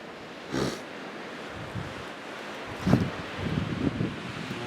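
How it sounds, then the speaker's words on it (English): Strong wind outdoors on an exploring walk, buffeting a nearby microphone in several low rumbling gusts, the loudest near the end, with no talking. "See, it's still really windy"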